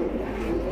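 Pigeons cooing at a pigeon market, a brief low murmur of coos close by amid a busy background, with no clear talking.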